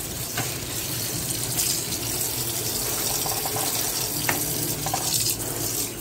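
Tap water runs steadily into a kitchen sink while crab is washed, with occasional clinks and splashes from handling, close and continuous with no talk.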